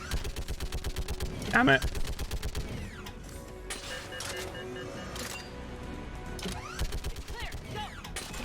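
Rapid automatic weapon fire and blasts in the Mass Effect 3 video game, bursts of sharp repeated shots with louder impacts in between, alongside someone talking.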